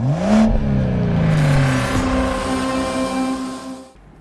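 A convertible car pulls away and accelerates on a rainy day, its engine note rising through a gear change and then easing off near the end, heard close and alone.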